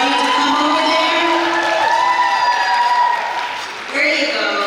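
An audience claps and cheers at a gala night, a loud dense burst of applause with whoops that carries across the whole stretch, dipping briefly before swelling again.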